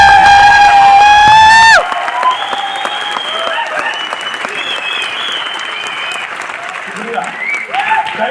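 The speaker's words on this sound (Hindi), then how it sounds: "तो बढ़िया ताली बजाओ हमारे" At a success celebration in Noida, an audience bursts into dense, loud applause that follows a tonal burst at the start, and the clapping continues steadily with some cheering and a voice over it.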